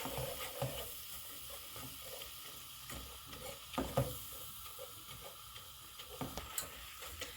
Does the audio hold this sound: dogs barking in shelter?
no